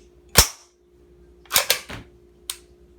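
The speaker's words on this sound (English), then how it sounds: "This is a legal open bolt semi-automatic pistol." Interdynamic KG-9 open bolt semi-automatic pistol firing, four sharp loud shots in an uneven sequence, one alone, then two close together and a last one after a short pause.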